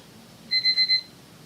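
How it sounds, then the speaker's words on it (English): Medicine reminder alarm going off, four quick bright electronic beeps in a tight burst, loud and clear over a quiet room with no talk. "I took my medicine ahead of time and then forgot to turn off the alarm."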